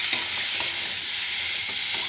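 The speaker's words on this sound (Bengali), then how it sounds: "এইবার দিয়ে দিলাম ডিম দুটো। ডিম দুটো দিয়ে একটু নাড়াচাড়া করি।" Two eggs stirred into curry masala frying in a pan, a steady hiss of sizzle with a few sharp scrapes of the spoon spaced apart, close and moderately loud, with no talk.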